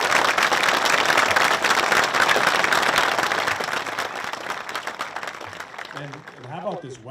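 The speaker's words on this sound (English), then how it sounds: "How about a round of applause for our band and our color guard" A graduation ceremony audience applauds loudly, dense clapping from a large crowd that fades out as a voice starts talking over the tail end.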